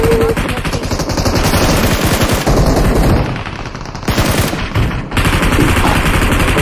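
Loud, nonstop automatic gunfire in the mobile battle royale game PUBG Mobile (BGMI), with dense rapid bursts overlapping for several seconds and a brief dip before the shooting resumes.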